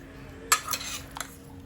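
Plums being stirred with sugar and water in a pot, a spoon scraping and clinking against the pot in two or three brief close strokes, then quiet.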